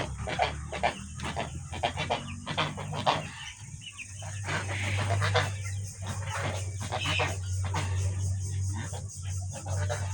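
Chickens cluck repeatedly at a layer hen farm in a close, busy stream of short calls, over a low background hum, with some voices now and then.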